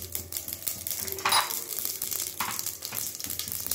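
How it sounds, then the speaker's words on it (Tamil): Small mustard seeds crackle and pop in four spoons of hot oil in a pan while mutton fry is being cooked, a busy close sizzling hiss with scattered bright pops and a couple of louder bursts. "இப்போ நமக்கு லைட் கொஞ்சமாக கடுகு சேர்த்துக்கலாம்."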